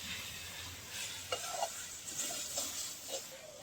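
Spices being stirred into fried rice in a pan over a clay stove, with soft scraping strokes and a faint sizzle, a few sharper clinks standing out near the middle and end.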